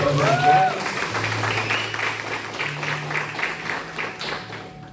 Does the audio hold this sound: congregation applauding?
yes